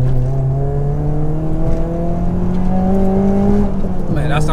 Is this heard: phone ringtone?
no